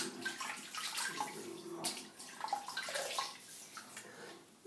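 Water splashing softly in a basin as a face is wetted before a shave with a Wizamet W6 razor, quiet irregular sloshes and drips close by, with no talking.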